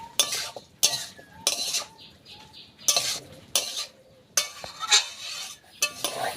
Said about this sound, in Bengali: আমি ভালো করে কষে নেব